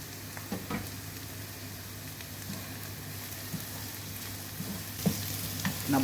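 Carrot, beans and capsicum stir-fry in a hot pan for vegetable fried rice, giving a constant close sizzle with occasional scrapes and clinks of a spatula stirring.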